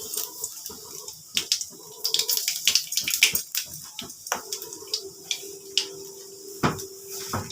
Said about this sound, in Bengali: এবার আমি কালো জিরা ফোড়ন দিচ্ছি।